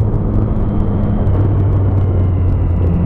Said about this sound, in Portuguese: O caminhão vai cruzar.